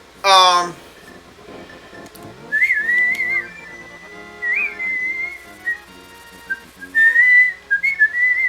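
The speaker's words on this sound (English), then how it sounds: "I'm not gonna try to whistle that again." A person whistles a tune while playing The Legend of Zelda: A Link to the Past, with wavering, halting notes in short phrases that start after a brief burst of game sound, close to the microphone.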